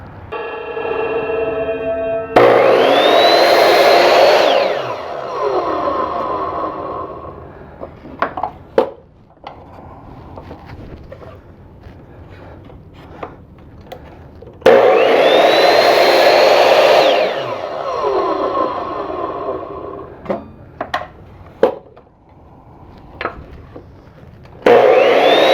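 A power saw, likely a miter saw, cuts wood pieces for the axle supports of a rubber band race car. Two long loud whining cuts each wind down, followed by clatter and knocks of handling wood between them.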